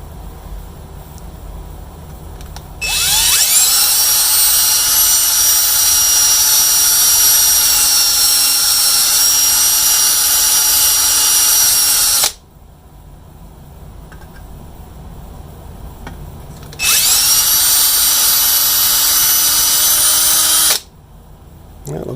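Power drill whining at high speed in two long bursts while enlarging a hole with a drill bit, steady and close, with a quiet pause between them.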